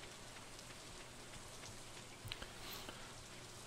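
Rain in the farming video game Stardew Valley, a steady soft hiss of falling drops throughout with a couple of faint clicks, even and unbroken, with no voices.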